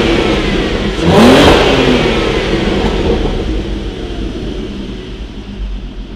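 A Golf GTI R32 engine surges in a loud rev, then winds down and idles with a gradually fading drone, heard up close.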